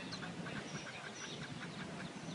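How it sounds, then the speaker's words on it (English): Several ducks quack softly in quick, overlapping calls, a small flock chattering continuously at a distance with no talking. "Hold up, there's ducks."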